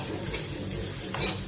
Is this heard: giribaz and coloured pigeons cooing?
no